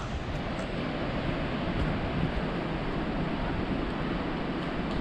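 Steady broadband rush of the Dudh Kosi river flowing near a Himalayan trail toward Tengboche, a continuous close wash of water with a faint breezy edge and no voices.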